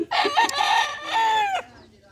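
A single gamefowl rooster, a Kelso or White Thomson, crows loudly and close by in a backyard game farm, a long drawn-out call that rises and then trails off, with no talking.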